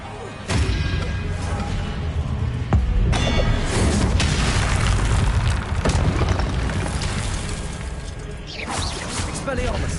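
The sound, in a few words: Expelliarmus spell effect in Hogwarts Legacy video game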